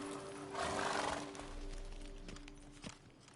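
Roach, Geralt's horse in The Witcher 3, gallops with thudding hoofbeats under a faint steady hum, the rhythm loudest early on and easing off toward the end.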